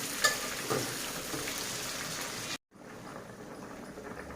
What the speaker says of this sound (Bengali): তেল গরম হয়ে গেছে, আমি এখন পেঁয়াজ বাটা রসুন বাটা দিয়ে দিলাম, ভেজে নেব।